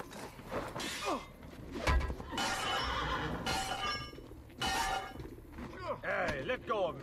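A horse neighs loudly with a shrill, wavering whinny in Assassin's Creed: Brotherhood, amid clattering game sounds and a brief thud, with another whinny near the end.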